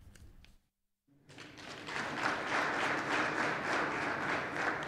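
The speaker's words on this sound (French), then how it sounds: "Des acclamations bien nourries pour saluer les nombreuses réalisations de l'équipe rectorale" A university audience at Parakou breaks into sustained applause after a brief gap, dense clapping building quickly and holding steady and fairly close.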